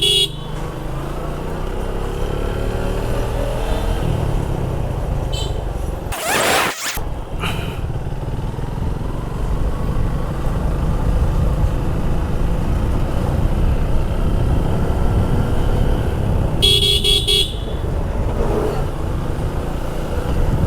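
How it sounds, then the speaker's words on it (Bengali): Suzuki Gixxer carburetor non-ABS motorcycle riding along a road in Gazipur, its engine a steady low drone with broadband wind rush throughout, broken by a brief sharp burst of wind buffeting and a short horn-like toot near the end. "আর এই মুহূর্তে আমার সাথে আছে জিক্সার কার্বোরেটর নন এভিএস এই বাইকটি।"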